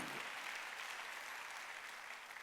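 A church congregation applauds during a sermon, a dense, steady wash of many hands clapping together that holds at an even level for the whole stretch with no talk over it.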